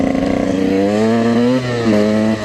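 A supermoto motorcycle revs loudly and steadily close by while being ridden and drifted, its engine pitch rising and dipping slightly over a couple of seconds, with no talking.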